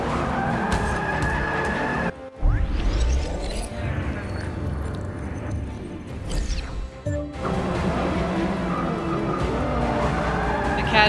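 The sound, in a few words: 1960s car racing in the video game Forza Motorsport 6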